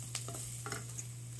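Garlic hits a hot oiled pan for sweet and sour pompano, giving a faint, brief sizzle with a few soft stirring scrapes over a steady background hum.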